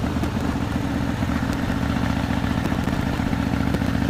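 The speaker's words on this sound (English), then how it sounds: "Here's the motorcycle." A Harley-Davidson motorcycle engine idles close by, a low continuous rumble with a faint rhythmic pulse and no voices.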